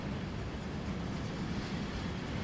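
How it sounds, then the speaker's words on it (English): In the Transport Fever 2 railway game, a train rolls into a station platform with a steady, dense rumble of wheels on rails, loud and continuous without any talk. "it turns green and lets this train come in."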